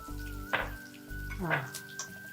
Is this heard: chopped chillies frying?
yes